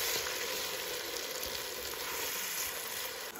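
Tomato paste frying in a pan, giving a dense, constant sizzle up close that holds steady throughout with no voices.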